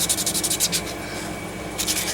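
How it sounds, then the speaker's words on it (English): Wet sanding of baked polymer clay pieces, quick repeated strokes making a scratchy hiss that pauses briefly before resuming, close and steady. "I wet sand them because it's not good to breathe in the clay that comes off"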